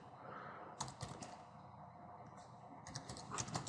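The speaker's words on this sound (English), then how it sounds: "What you'll do is you'll type in stat counter." Rapid typing on a computer keyboard while entering a plugin search into a WordPress admin page, with close, irregular key clicks that cluster into quick bursts across a quiet room background.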